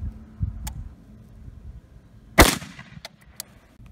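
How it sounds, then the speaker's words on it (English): A single loud, sharp crack marks a .308 round from a 20-inch AR-10 striking a lightweight Level III+ armor plate, standing out against a quiet background with a few faint ticks after it. "Now for a 308 out of a 20-inch AR-10."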